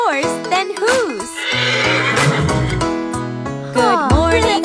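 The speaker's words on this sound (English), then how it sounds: "Good morning, horse," A horse neighs in a farm animals nursery rhyme for kids, with several bright whinnies at the start and again at the end around a stretch of sung music.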